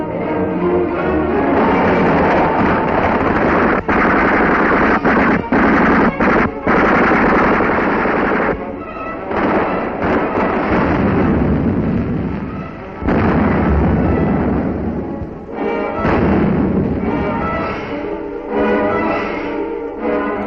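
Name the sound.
wartime gunfire and artillery in 1943 newsreel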